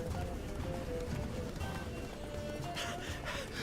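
Roach, Geralt's horse in The Witcher, gallops with a fast, rhythmic drumming of hooves up close, backed by steady game ambience and no speech.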